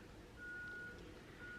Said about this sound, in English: That is definitely the garbage truck.